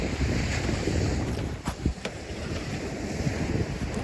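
Ocean waves and wind on a beach, a continuous loud roar of surf with gusty wind buffeting the microphone and a few sharp knocks midway.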